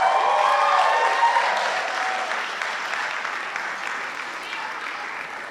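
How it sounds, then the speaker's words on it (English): Wedding guests applaud during a best man speech at the reception, a dense burst of clapping that is loudest at the start and slowly thins and fades. "we owe you guys one more round of applause"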